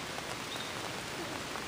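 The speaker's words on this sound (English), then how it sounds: "raining out there." Steady rain falls outdoors, heard from under shelter as a dense, even hiss of drops that stays constant and fairly close throughout, with no talking.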